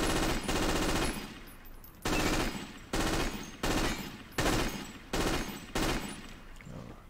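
Machine guns fire in about seven loud, sharp bursts, each roughly half a second long with short gaps between, during a map test in the Battlefield 2 mod Forgotten Hope 2 with new bunkers.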